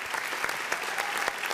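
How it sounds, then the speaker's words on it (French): Audience applause at a live Ivorian comedy show, a steady dense wash of clapping with a few sharper claps standing out, fairly close and continuous for the whole short stretch. "On applaudit pour les Ivoiriens"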